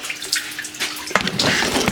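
Water runs steadily from a tap and splashes as it spills over a brimming container, a close, continuous hiss that grows louder and fuller toward the end.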